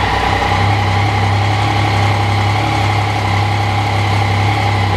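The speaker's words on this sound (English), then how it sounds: "once we run the engine, that oil is going to go into the oil filter." A Yamaha MT-09 motorcycle engine idles steadily after an oil change, a loud, even mechanical drone with constant tonal hum and no variation in revs, heard alone without speech.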